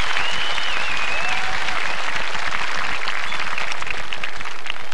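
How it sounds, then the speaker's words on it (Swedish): Dense, loud applause from a large outdoor sing-along audience at Skansen, thanking Henrik and his choir, a continuous roar of clapping that holds steady throughout, with a faint whistle rising over it. "En applåd för Henrik och hans kör."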